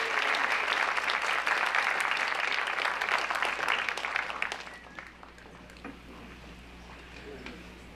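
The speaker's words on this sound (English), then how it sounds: "Please give them a round of applause." Dense applause from an audience at a school academic awards ceremony, steady and full for about four seconds before thinning out and fading into quiet room noise.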